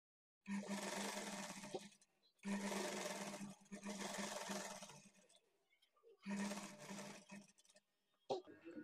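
A sewing machine runs in three long bursts of stitching along the side joint of a blouse, with short pauses between runs and a brief click at the end, close and steady.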